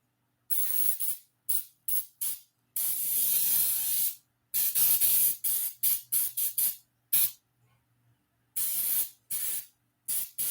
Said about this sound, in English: I am not going to be frugal with this baking spray.